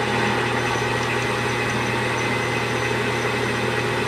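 A metal lathe turns with a carbide insert at 755 RPM, taking a 30 thou deep cut without lubricant. It gives a steady, loud mechanical hum with a constant low drone throughout and no speech.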